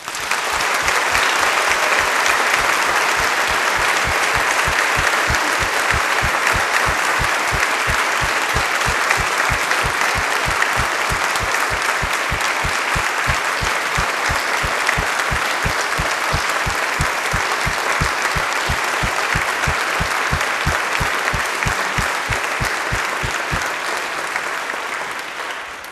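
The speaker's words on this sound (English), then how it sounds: "Please join me in giving them a heartfelt round of applause." A concert audience at a 9/11 alumni band concert applauds at length, a thick, sustained wash of clapping, with a rhythmic pulse underneath that stays loud and steady for about twenty-five seconds before starting to thin.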